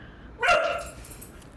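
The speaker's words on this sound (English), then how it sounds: "Dog in the background." A dog barks once in the background, a short moderately loud yelp with a faint trailing whimper, heard alone in an indoor room with no talking over it.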